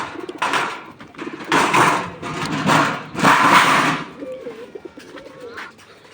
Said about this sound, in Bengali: কবুতরগুলো খাবার দেব